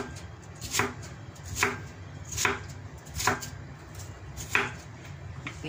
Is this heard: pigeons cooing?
no